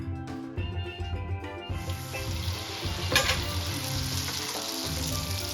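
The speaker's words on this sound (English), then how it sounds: "Now it's time to fry it" Trinidad doubles dough frying in hot oil, a loud, close, continuous sizzle that swells and brightens midway as more dough hits the oil, with occasional stirring and splashing and no talking.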